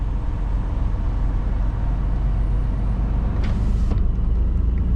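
Continuous low engine rumble of idling vehicles in stopped traffic in Gothenburg, Sweden, steady and close, with a brief hiss of air brakes near the end.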